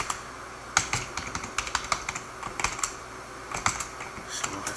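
Quiet, irregular keystrokes tap on a computer keyboard as a password is typed, light clicks in short bursts with small pauses, close by and alone without talk.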